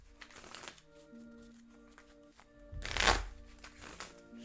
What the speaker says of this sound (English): I'm going to shuffle up again.